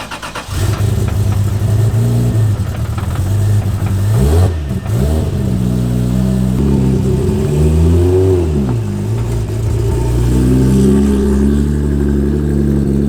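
A Toyota MK4 Supra, built to roughly 590 horsepower, revs hard and accelerates through several gears on a test drive, loud and close with rising engine pitch and brief dips at shifts, no talk.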